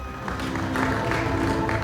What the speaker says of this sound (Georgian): აპლოდისმენტები გამას გულშემატკივარს.